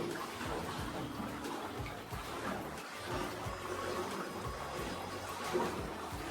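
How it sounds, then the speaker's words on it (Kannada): Water runs at Moodgal Keshavanatheshwara temple in Keradi, a soft steady trickle and flow heard close by with faint background murmur. "ಅಲ್ಲಿಂದ ನೀರು ಬರ್ತದೆ"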